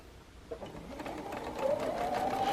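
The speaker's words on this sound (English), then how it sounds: "I'm going to start stitching my 9 patch together" A sewing machine stitches a quilt nine-patch block with a quarter-inch seam, its motor whirring faintly at first and then running steadily and louder, with a rising hum as it gets going.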